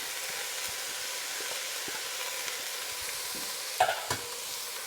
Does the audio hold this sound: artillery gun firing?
no